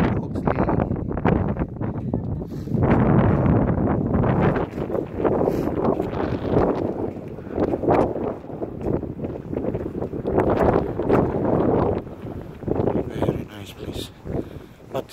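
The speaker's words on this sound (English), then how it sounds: "It's cold, very windy" Strong, cold wind blowing across the microphone on a cloudy day outdoors in Copenhagen, a loud continuous rumbling buffet with gusty surges.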